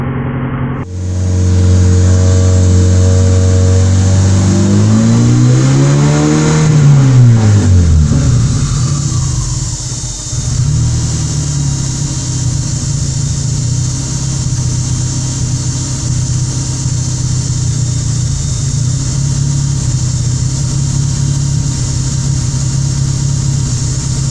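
A Honda Civic engine starts up close by, revs briefly, then drops into a steady, continuous idle as it warms, with no one speaking.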